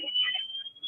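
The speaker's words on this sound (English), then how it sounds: "that's called a pass alarm" Firefighter's PASS alarm sounding a steady high-pitched electronic tone to signal low or running-out air, heard alone over a faint background.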